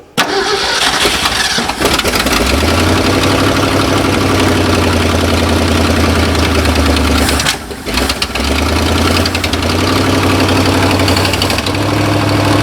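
A 1969 Ford dump truck engine cranks and catches, then runs loud and steady without a muffler, a rough low rumble that dips briefly before settling back into a continuous idle.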